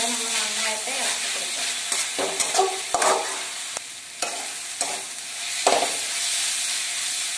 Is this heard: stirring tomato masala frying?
yes